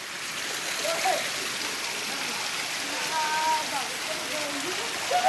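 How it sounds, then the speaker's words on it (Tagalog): Kawa Falls in Pilar, Capiz, Philippines, a steady rushing, splashing waterfall roar, with people talking and exclaiming faintly over the water. "This is the Kawa Falls."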